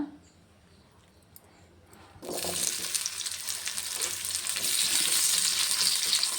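Chopped onions dropped into hot oil in a pan, quiet for two seconds, then a sudden loud, dense sizzle that holds steady and grows slightly stronger.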